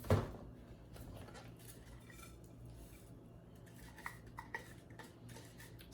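Blended chocolate caramel pie filling is scraped out into a bowl, giving close, quiet scraping with occasional clinks and knocks of utensil against dish, and no talking.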